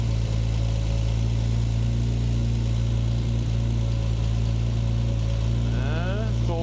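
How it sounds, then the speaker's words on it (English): Triumph TR6 engine converted from carburettors to fuel injection, idling with a steady low hum and even drone, a brief rising rev near the end. "So much easier when the car is running."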